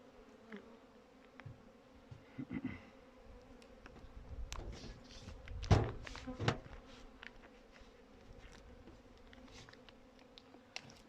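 Honeybees in an opened hive during winter feeding make a faint, low buzzing hum, with scattered soft knocks and one louder bump midway, close and quiet, no talking.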